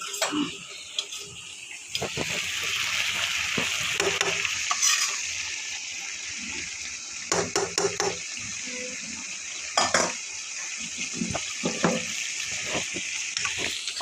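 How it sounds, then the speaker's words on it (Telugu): A spoon stirs chili powder and ginger garlic paste into a chicken curry in a metal pan, with repeated clinks and scrapes over a low, steady sizzle and no talking. "కారం వేసేసిన బాగా కలిపేస్తా ఒకసారి ఇప్పుడైతే బాగా కారం వేసి కలిపేసిన"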